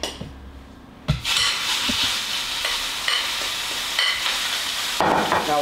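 Turkey mix hits a pan of hot vegetable oil with a clunk, then sizzles loudly and steadily at close range, with occasional light pan and utensil knocks.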